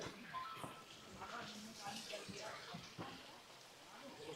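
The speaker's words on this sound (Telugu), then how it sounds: "క్రేజీ వాటర్ ఫాల్స్ ఇది అయితే పైన నుండి పడుతూనే ఉంది." Waterfall pouring steadily down a mountainside on the Kedarnath trek, a continuous broadband rush of falling water heard close by.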